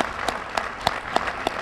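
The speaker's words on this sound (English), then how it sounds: "let's have another round of applause for them" Sparse claps in a steady rhythm of about five sharp strikes, fairly faint and evenly spaced, with no voices over them.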